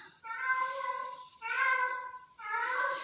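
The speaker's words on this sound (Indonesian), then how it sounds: "Jadi kok ngeong-ngeong dia" A house cat meows repeatedly to be let outside, giving three drawn-out, tonal meows in a steady rhythm. The cat is close and clear, with no talk over it.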